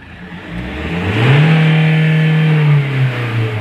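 Mahindra XUV 500 diesel engine revving up past 3000 RPM, a close, loud rising whir that holds steady at high revs for about two seconds before easing slightly, with no talking.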